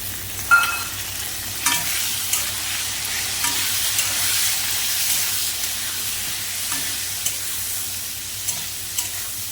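Green chilies frying in oil in a pan for a pumpkin-greens and hilsa fish curry, giving a steady close sizzle and hiss with a few brief stirring clinks, no voices.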